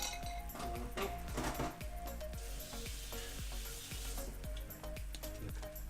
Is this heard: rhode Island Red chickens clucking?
no